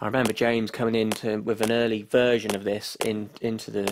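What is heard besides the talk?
No distinct noise like a dog, phone or traffic.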